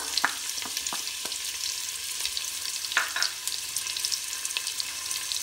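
Onions sizzle in a pan with whole garam masala, a continuous bright hiss broken by occasional sharp spatters and light stirring clicks, close and even throughout, no voices.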